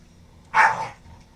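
A single short dog bark from the video game Animal Crossing: New Horizons, clear and moderately loud against a quiet background.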